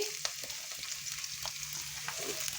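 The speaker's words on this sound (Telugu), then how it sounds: "ఉల్లిపాయ కూడా కొంచెం మగ్గాలి." Thinly sliced onions softening with green chillies in a pan for upma, a quiet, even sizzle with a few light stirring clicks and no talking.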